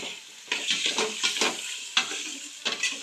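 Liver frying in a pan for a Filipino suam dish, stirred by hand: repeated scraping stirs over a soft, steady sizzle, close and fairly quiet, with short pauses between strokes.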